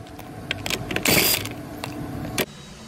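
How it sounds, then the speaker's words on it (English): A ratchet clicks and whirs in short close bursts while 21 mm lug nuts come off a Toyota Highlander rear wheel, with a louder grinding spell in the middle and a sharp clack near the end. "We're gonna start by removing the 21 millimeter lug nuts that hold the wheel on."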